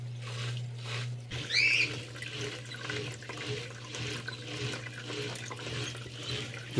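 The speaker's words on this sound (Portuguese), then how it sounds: "Peraí que vai sair água aqui." A homemade water pump, run off mains power, pushes out water in a steady splashing, gurgling flow that carries on throughout, with a brief louder burst near the start over a constant low electrical hum.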